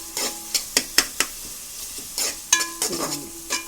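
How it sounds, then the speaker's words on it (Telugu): Tomato and onions soften in hot oil while a spoon stirs them, with a series of sharp metallic clinks and scrapes over a light sizzle, close and loud, with no talking. "టమాటా కూడా ఉల్లిపాయలులోనూ వేసేస్తండి, నూనెలో మగ్గుతాయి"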